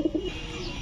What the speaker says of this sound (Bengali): দেখেন ফুল ঝোপা মুজাওয়ালা পাথর চোখের কবুতর